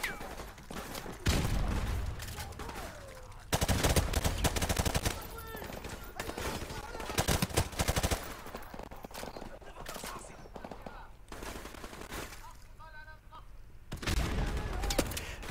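Bursts of gunfire from enemies in Call of Duty Modern Warfare Remastered, sharp volleys of shots arriving in clusters with quieter gaps between, fairly close and loud against background game ambience.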